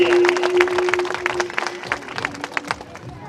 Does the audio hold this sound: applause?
yes